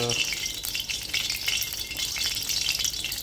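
Oil sizzling steadily in a pan while cooking masala baingan bharta, a continuous bright hiss with faint stirring, close and even throughout with no talk.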